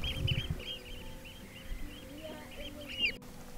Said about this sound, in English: Birds are celebrating. They're not really singing. I don't know what they're doing. Chirping.